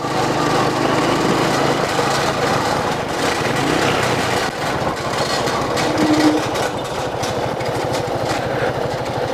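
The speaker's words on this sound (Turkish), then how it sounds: "Eskiden böyle ses gelmezdi bizim motosikletten." A small motorcycle engine making an unusual new noise drones steadily and loudly, with a buzzing, rattly tone throughout and no pauses.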